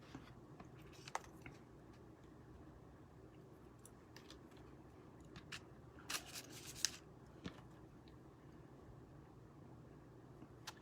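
Scissors snipping cardstock during a paper craft demonstration: faint, sparse crisp snips and paper rustles, with a small cluster of quick cuts, very quiet and close.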